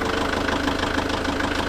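A Kubota compact tractor engine idles close by in a steady, even mechanical chug with a slight knocking texture, with no voices over it.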